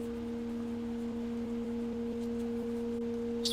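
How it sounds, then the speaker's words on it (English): Two steady pure sine tones hold unchanged together throughout, constant and fairly loud over a faint background hiss, with a brief chirp near the end. "God, pure tones hurt."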